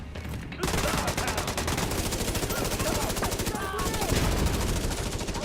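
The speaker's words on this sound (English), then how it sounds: "Oh wow, that grenade actually worked." Explosion from a thrown grenade in a shooter video game, a burst of loud crackling blasts amid rapid gunfire that continues densely throughout, with a brief dull thump near the end.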